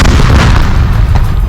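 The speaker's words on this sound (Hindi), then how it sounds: "धमाके की वजह से उस दीवार के परखचे उड़ गए।" A bomb blast tears apart a border wall between Gaza and Israel's Erez area, a loud sustained booming rumble with heavy low-end roar and debris crackle filling the whole moment.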